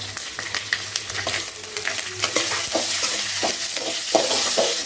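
Onions with curry leaves sizzling in a pan for bitter gourd sambar, with repeated scraping and stirring strokes over a steady frying hiss and a low background hum.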